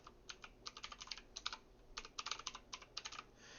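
An email and password typed on a computer keyboard, quick irregular runs of close, crisp key clicks with brief pauses between bursts.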